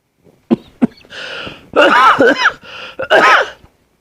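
A few sharp coughs close to the microphone, followed by bursts of throat noise and heavy breathy sounds.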